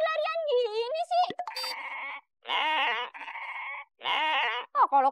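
A goat bleats in several wavering, drawn-out cries in close succession, loud and near, with voices heard alongside.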